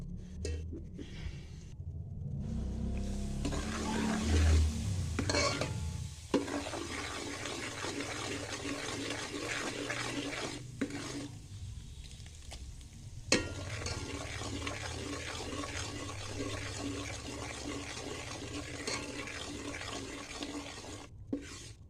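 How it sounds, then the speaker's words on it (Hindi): Semolina and maida flour being roasted together in a pan for kesari halwa, heard as steady scraping and stirring with a soft frying hiss, close and alone, with a few sharper clinks of the spoon. "मैदे को भी सूजी के साथ भून लूँगी।"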